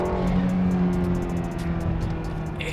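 Four-cylinder BMW accelerating, a close engine drone rising under throttle with a steady tonal hum, brief and loud, no talk over it.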